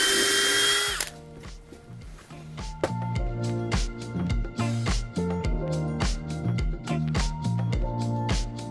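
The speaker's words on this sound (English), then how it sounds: "I'm just drilling some pilot holes in the edges." A power drill bores pilot holes into the edges of wooden boards at an allotment garden. The whining motor comes in a rapid series of short bursts with shifting pitch, close and loud, with no talking.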